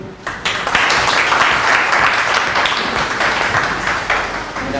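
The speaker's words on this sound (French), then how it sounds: "je crois qu'on a applaudi" Audience applause at a book dedication ceremony, a sustained round of clapping from a crowd that rises quickly and holds loud for several seconds before easing slightly.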